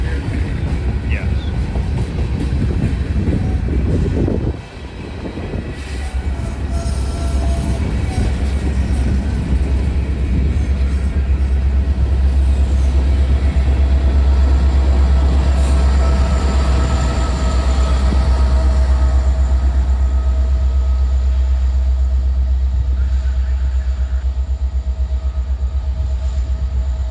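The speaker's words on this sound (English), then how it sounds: "a 50D came speeding around the corner on the far track with two AC-44s up front" A heavy Norfolk Southern freight train led by two AC44 diesel locomotives rumbles past in Fostoria, Ohio, with deep, steady engine drone and rolling wheel noise, loud and close throughout.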